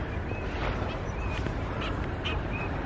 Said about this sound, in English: You can hear the ducks.